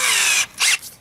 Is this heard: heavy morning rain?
no